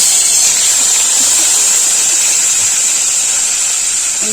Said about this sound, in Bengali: আমি এবার টমেটো কুচুটা দিয়ে দেবো